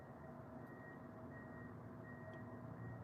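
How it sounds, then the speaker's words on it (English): A faint electronic alarm beeps steadily in the background of a quiet room, its repeated tones barely rising above a low hum. "Y'all hear the beeping in the background."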